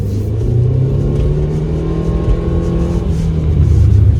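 A 2011 Subaru Legacy engine pulling hard under acceleration, a loud steady rumble that rises in pitch and holds close and continuous for about four seconds, with no talk over it.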